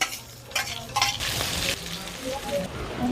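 Onion frying with grated ginger and garlic in hot oil in a pan for chilli paneer, a steady close sizzle with a few stirring scrapes and clinks, no talk.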